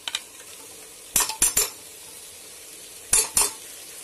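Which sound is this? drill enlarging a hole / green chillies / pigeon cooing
green chillies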